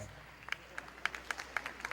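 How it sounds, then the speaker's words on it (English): A few scattered claps from an audience at an Islamic Ramadan lecture, sparse and uneven, some eight separate hand claps at moderate distance over a low hum. "You know, we can clap."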